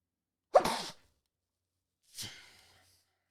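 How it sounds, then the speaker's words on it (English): Two sneezes from a person with allergies, one sharp and loud, then a softer second burst after a short pause, alone in a quiet room. "Excuse me while I sneeze."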